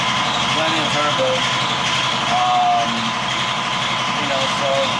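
A turbocharged rotary race engine of about 700 horsepower runs steadily with a continuous drone and whining tones, loud and constant, while people talk over it.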